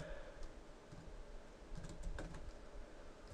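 Someone types on a computer keyboard in quick, light, irregular clicks, close and fairly quiet, with a few louder keystrokes standing out and no voice.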